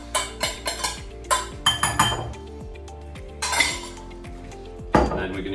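Salted onions being mixed with mint and coriander in a bowl for tandoori lamb chops, a quick run of close clinks and scrapes of utensil against the bowl, with a louder knock near the end.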